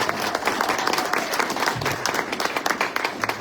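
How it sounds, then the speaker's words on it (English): A room full of people claps steadily for a panel at a gathering on Texas history; the dense applause holds even and fairly loud for the whole stretch with no voices over it. "Let's give them another round of applause."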